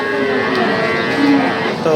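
A Sindhi heifer calf moos loudly nearby at a cattle market, a long drawn-out low call that fills the moment, with faint background noise.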